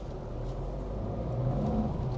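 A Maruti Alto car cruising steadily at about 40 km/h with cruise control engaged, its engine and road noise forming a continuous low rumble and whir from inside the cabin with no voices.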